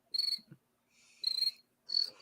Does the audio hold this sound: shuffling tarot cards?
no